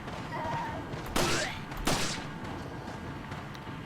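Gunfire in Resident Evil 4 as villagers are shot, two sharp reports about three-quarters of a second apart over a low, murmuring game background.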